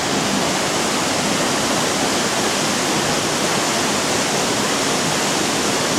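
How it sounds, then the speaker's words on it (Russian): Chegem small waterfall in the mountains: a steady, loud rush of falling water fills the whole stretch without a break, with no voices over it. "Это получается Чегемский малый водопад."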